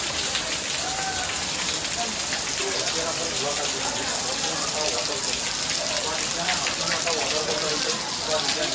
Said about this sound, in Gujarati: તમે જુઓ ઉપરથી પણ પાણી પડી રહ્યું છે અહીંયા